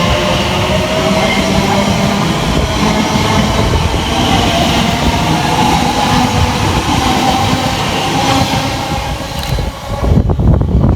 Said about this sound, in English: the next train now to depart is 345010. Departing with the 1211 Elizabeth line service from Heathrow Terminal 5